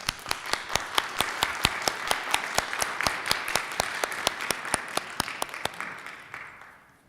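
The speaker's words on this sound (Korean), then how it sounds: "잠깐 일어나시면 우리 박수 한번 하겠습니다." A church congregation stands and claps together during a worship service, loud, evenly paced beats in a steady rhythm that thin out and fade in the last second.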